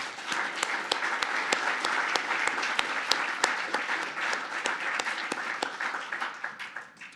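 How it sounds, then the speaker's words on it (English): Audience applause at a lecture on antisemitism and Holocaust education, a steady field of many hands clapping with sharp individual claps standing out, sustained for several seconds and thinning slightly toward the end. "Can we have a round of applause for her, please?"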